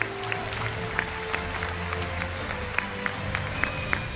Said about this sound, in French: Vous pouvez les applaudir bien fort, s'il vous plaît, la team Big.